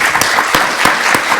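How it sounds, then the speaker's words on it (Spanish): Applause for Luis from the audience after a startup law conference talk, loud close clapping with a few distinct heavy claps standing out over the dense crowd sound. "demando un gran aplauso para Luis"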